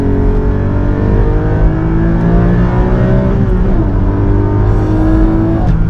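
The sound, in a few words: Porsche GT4 engine revving with burbles and auto blips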